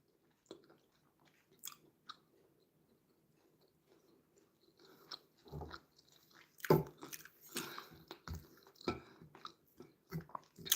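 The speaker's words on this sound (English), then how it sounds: "I'm eating white rice and vegetable sauce" Someone eats white rice with vegetable sauce at lunch, with soft close bites and chewing, faint at first and growing louder and more frequent with small crunchy clicks toward the end.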